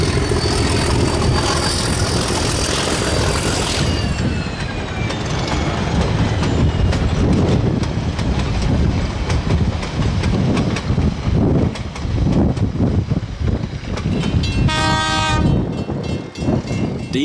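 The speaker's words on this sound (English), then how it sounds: "DG-772 leads the goods train on the run, with EO3 marshalled in the consist." Diesel locomotive DG-772 leading a goods train with electric EO3 in the consist beside the Heathcote estuary, loud engine roar and rumbling wagons passing close with clattering wheels, ending with a blast of the train horn.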